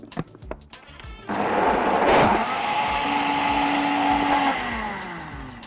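Electric blender whirring steadily as it purees a thick tomato sauce, with a sustained motor drone rising in pitch partway through, loud and close, after a few brief clatters at the start.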